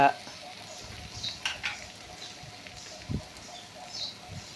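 Chilli powder fries in oil in a pan for a masala curry, giving a faint, steady sizzle with occasional soft stirring knocks while a person talks.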